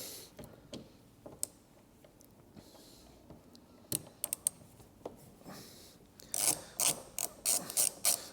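A socket ratchet clicks in short bursts while undoing a 15 mm nut on a Vauxhall Corsa C door mirror, with scattered ticks early on and a denser run of loud, close ratcheting near the end.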